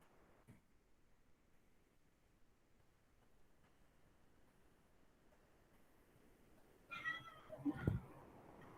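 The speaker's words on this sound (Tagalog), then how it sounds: "sorry yung pusa ko. Nanggugulo." A pet cat meows twice in a row, fairly close and moderately loud, near the end of an otherwise quiet room with faint background hiss.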